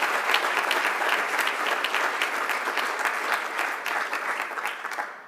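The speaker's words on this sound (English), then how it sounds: "I think that deserves a round of applause" An audience at a Dartmouth Center for Social Impact anniversary celebration gives a full round of applause for funded internships, many hands clapping briskly and evenly before tapering off at the end, with no talk over it.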